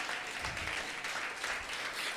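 A church congregation applauds together in a steady wash of clapping that fills the room evenly from start to finish, with no voices standing out above it.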